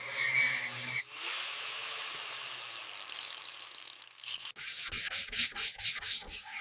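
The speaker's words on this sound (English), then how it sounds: "Block sanding reveals everything." Steady abrasive rubbing of sandpaper on a Ford F-100 body panel, then a run of rhythmic back-and-forth block sanding strokes, close and loud.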